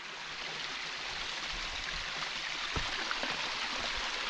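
Shallow, clear water of a stream at Brerachan Falls in Scotland slides over bedrock in a steady, close rushing wash, with no voices and a few small splashes and gurgles.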